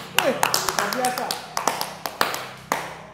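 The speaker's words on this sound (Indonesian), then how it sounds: "Tepuk tangan dulu." A small group claps briefly and unevenly, a sparse smattering of close, sharp hand claps over a few seconds, mixed with talk.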